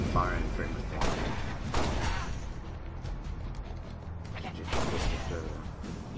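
Gunfire in the Halo Spartan Assault video game, repeated sharp shots and blasts in clusters against a dense background of battle noise, with a voice talking over parts of it.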